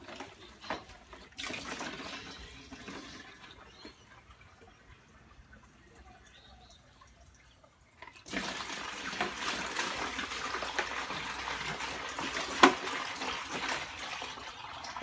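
Water pours and trickles into a 55 litre plastic electrolysis tank mixed with washing soda for derusting cast iron, first quieter, then a louder steady gushing fill in the second half.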